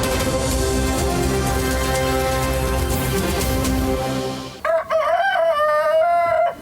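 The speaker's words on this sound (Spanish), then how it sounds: "los pollos, gallos y gallinas que levantaba allí la dueña de un restaurante informal" Chickens, roosters and hens kept by the owner of an informal restaurant: a dense, loud din of clucking and cackling, then a single rooster crows clearly and close by with a long, wavering cock-a-doodle-doo.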